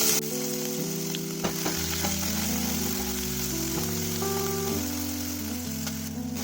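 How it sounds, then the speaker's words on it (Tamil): Chopped onion, fennel and cumin sizzle and crackle in hot oil in a pan, a steady close frying hiss with occasional pops and some clinking of utensils. "பொரிஞ்சதும் நம்ம நறுக்கி வச்சுக்க வெங்காயம்,"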